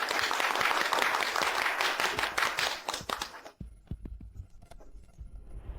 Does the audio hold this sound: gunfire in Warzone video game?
no